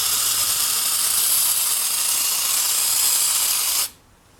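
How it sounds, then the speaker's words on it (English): A spray varnish can hisses steadily for several seconds over polymer clay, close and loud, then cuts off abruptly. "And I'm just going to spray."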